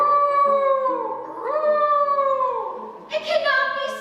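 Howling hounds performed as a sound effect in a high school stage play, long wavering howls sliding up and down in pitch, one after another, ending with a brighter overlapping cry.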